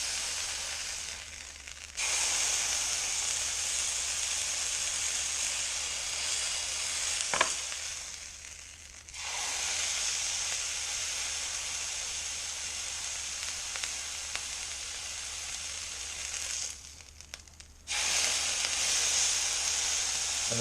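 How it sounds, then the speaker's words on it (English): Venison loin sears in a hot pan with a loud, steady sizzle that cuts out twice for a moment and then resumes at full strength. "So just a quick sear on the sides."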